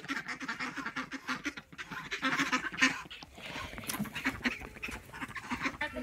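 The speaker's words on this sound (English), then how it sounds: "Duckies, oh duckies" A group of ducks quacks and honks in a steady, overlapping stream of calls at moderate distance, with outdoor background noise.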